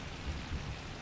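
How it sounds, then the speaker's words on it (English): Steady, soft rain in the Farming Simulator 25 game, a continuous hiss with low rumbling underneath, even and unbroken through the short stretch. "It's raining in the game."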